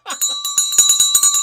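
A rapid, bright, ringing bell sounds repeatedly and close by, like the stock market closing bell, in a quick series of clanging strikes with no other sound.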